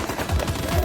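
Gunfire from a Hindi action film scene plays as a short, dense burst of rapid shots, fairly loud and continuous for under a second.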